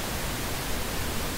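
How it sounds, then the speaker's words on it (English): Two pink noise sources combined into one steady, even hiss, broadband and unchanging, filling the short stretch with no other sound or voices. "I'm actually generating two different pink noise sources"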